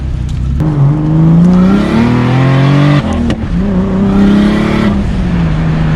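A turbocharged, forged BMW M50 engine in an E30 revs hard at part throttle while the tires spin, giving a loud, close, rising engine whine with harmonics that surges, dips briefly and climbs again. No one speaks.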